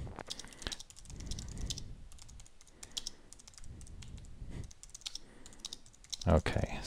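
Steady computer keyboard typing in bursts of quick clicks, close and fairly loud, during a coding session on a Breakout game's collision detection, with a brief pause and a sharper clack near the end.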